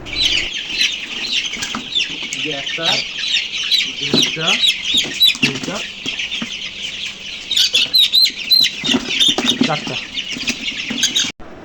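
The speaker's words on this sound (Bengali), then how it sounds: "চারটা মুরগি ধরলাম আমি" Young farm chickens, about three weeks old, cluck and squawk insistently while being caught and handled, with wings flapping in bursts; the calls are loud, close and nearly continuous.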